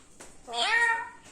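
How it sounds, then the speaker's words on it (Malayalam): A cat gives a single clear meow, rising and then falling, fairly close and alone against a quiet background. "അവിടെ പൂച്ച"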